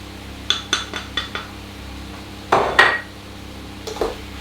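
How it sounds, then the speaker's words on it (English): A spoon taps and scrapes in a pan as plain flour is stirred into an onion mix for a fidget pie sauce: five light metallic clinks in a row, then a louder scraping sweep and one brief later scrape. "we are going to stir that into our onion mix"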